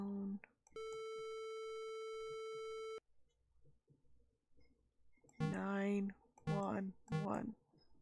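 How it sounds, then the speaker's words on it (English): Telephone in the Maniac Mansion PC game: a brief tone, then a flat, sustained electronic beep lasting about two seconds, followed by quiet clicks and a few chirpy synthesized blips; a person talks softly in the background. "Can I use the phone? Use phone."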